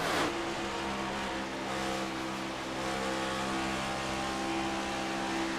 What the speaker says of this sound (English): These guys still using a lot of throttle even after 33 laps.